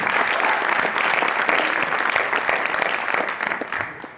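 Sustained audience applause at the final of the ESSEC 2019 eloquence contest, a dense, steady wash of many hands clapping close and loud throughout, with no talk over it.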